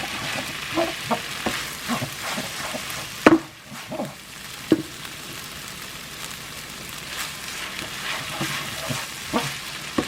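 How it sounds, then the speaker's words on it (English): Pad Thai stirred and fried in a pan: a continuous close sizzle broken by frequent scraping and tossing clatters, with one sharp knock partway through, loud and busy with no talk. "Now I go ahead mix everything together."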